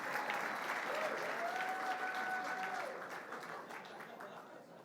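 Applause from the crowd at a lacrosse hall of fame induction ceremony rolls on steadily, then begins to fade toward the end, while a faint voice is heard over it.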